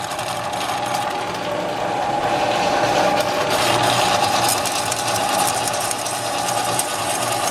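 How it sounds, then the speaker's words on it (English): A manual milling machine used as a drill press runs steadily, cutting out a box, with a whirring motor hum and a high mechanical whine, with faint rattling and cutting noise. "Alright, I'm going to run my glorified drill press here."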